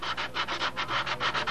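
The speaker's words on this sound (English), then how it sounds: "So as I start to do the sanding, you're going to see some high spots." Steady back-and-forth sanding by hand across a surface, likely of a model hull, about nine even rasping strokes, close and loud with no talking.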